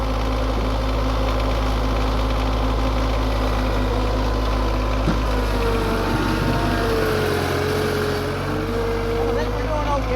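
A tractor engine runs steadily while plowing snow after a Nova Scotia winter storm, a continuous low droning hum that stays close and loud throughout, with no voices.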